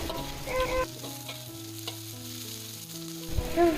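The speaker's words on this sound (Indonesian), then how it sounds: "Masukkan semuanya, kita tumis-tumis kembali hingga bumbu tercium harumnya." Red and green chilies with spices stir-fried in a pan, a continuous close sizzle with scraping stirs of the spatula and a faint hum in the background.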